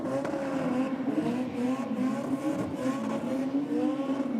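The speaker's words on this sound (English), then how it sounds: "Falcon just goes by the VY Commodore" Race cars roar past at a drag strip as a Ford Falcon overtakes a VY Commodore, steady loud engine drone with harmonic whine throughout, no pause.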